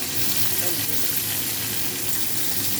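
Tomato pieces and slit green chillies fry in hot oil in a pan, a steady, dense sizzle that holds evenly from start to finish with no talking over it.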